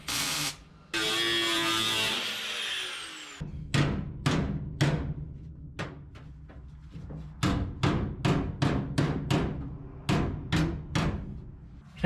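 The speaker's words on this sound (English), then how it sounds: "We can hammer that down." Repeated sharp hammer blows ring on the sheet metal floor of a rusted 1959 International B100 truck, coming in irregular bursts of quick strikes after a stretch of grinding-like noise.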